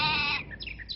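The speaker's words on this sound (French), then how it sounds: "Un mouton." A cartoonish sheep bleat from a World of Warcraft advert: a short, high, wavering cry that breaks into quick chirpy warbles, close and clear, with no speech.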